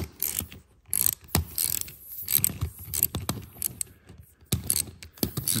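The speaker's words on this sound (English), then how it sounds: "This is an 11 millimeter wrench." An 11 millimetre wrench works on hardware while fixing a flat tyre, giving a run of quick metallic ratcheting clicks in irregular bursts, close and fairly loud.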